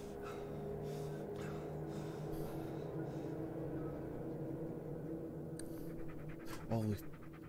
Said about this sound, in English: it's my dog right there